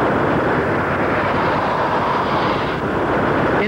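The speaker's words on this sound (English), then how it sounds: "More vehicles pulled off the road to witness the afterburner takeoff." A military jet on an air base runway roars through an afterburner takeoff, a loud, steady broadband rumble and hiss filling the whole moment without a break.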